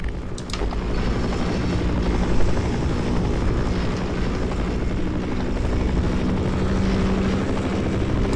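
A helicopter in the video game Half-Life Source hovers loudly and close, a continuous thudding rotor throb with engine drone that holds steady throughout, no speech over it.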